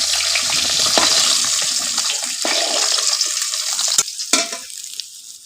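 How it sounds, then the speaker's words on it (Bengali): Small puti fish frying in hot oil in a wok, a loud, close, steady sizzle with bursts of spatter that thins out toward the end, no voices. "বাকি মাছগুলো আমি ভেজে নিব।"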